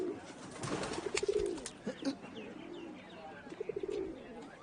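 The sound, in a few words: birds calling, pigeons cooing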